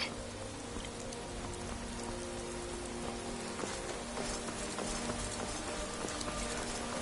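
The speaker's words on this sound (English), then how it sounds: "Oh man, it's raining." Steady rain in the video game Skyrim patters evenly throughout, a continuous dense hiss of drops with faint scattered ticks mixed in.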